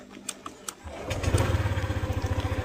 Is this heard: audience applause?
no